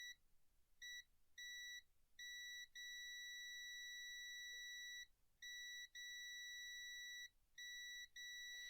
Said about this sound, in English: it might just be the way the multimeter beeps